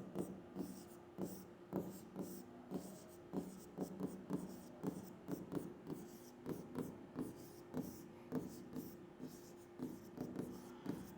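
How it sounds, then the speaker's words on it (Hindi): Pen writing out a trigonometry solution by hand, a steady run of short scratching strokes and taps close by across the whole stretch, with no talking. "तो मैं डायरेक्ट लिख दे रहा हूं।"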